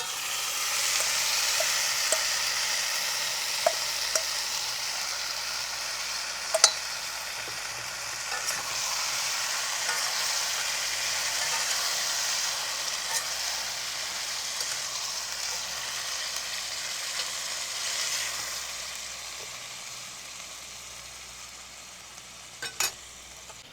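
Bengali-style mutton kosha fries in a kadai, sending out a steady, close hiss of sizzling oil for nearly half a minute, broken by occasional scrapes and clicks of stirring.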